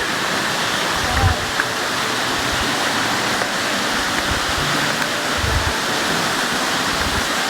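Cherokee and Hemlock Falls at Cloudland Canyon give a steady, broad rushing roar of falling water, continuous and fairly loud throughout, with a few low thumps of wind or footsteps near the microphone.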